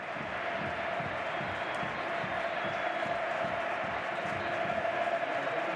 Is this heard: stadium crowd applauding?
yes